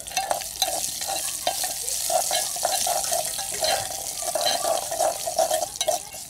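Garlic frying lightly in hot oil in a pan, added after the tempering spices, gives a steady, dense sizzle with faint stirring scrapes and crackles throughout.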